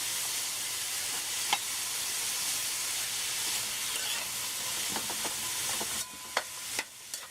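Okra sizzling in a pot with pumpkin, a steady soft hiss of frying with occasional light clicks of a spoon stirring, no talking.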